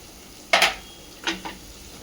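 Potato filling with sambar masala being stirred in a pan, with two short bursts of spoon-on-pan scraping and a soft sizzle, close and separated by quiet pauses.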